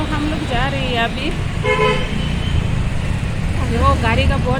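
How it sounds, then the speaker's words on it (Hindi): Busy road traffic in a flooded city, loud and constant, with repeated car horn toots and honks cutting through, while people talk over the din. "वो गाड़ी का बहुत ज़्यादा शोर है"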